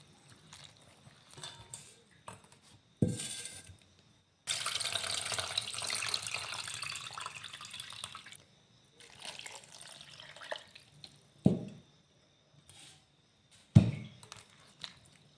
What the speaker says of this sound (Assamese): এতিয়া এইখিনি ভালদৰে ধুই ল'ম।